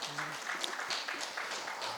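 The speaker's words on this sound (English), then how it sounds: "Can we have a huge round of applause for Yashwant?" Audience applause at a business conference on hiring technology, a soft, fairly faint spread of clapping that holds steady for about two seconds, with a faint trace of voices beneath.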